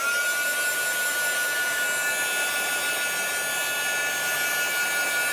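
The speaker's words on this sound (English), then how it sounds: "Oh, I'm going to give this a bit of a dry first," A hair dryer blows steadily on wet craft card, a continuous loud whooshing hum with a faint whine that holds without a break.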